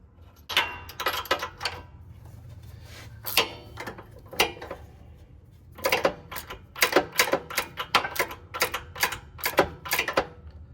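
Spark plug being screwed back into a Hustler Super Z mower with a 60-inch deck: a ratchet clicks in rapid bursts and short runs separated by pauses, close and crisp, with no talking.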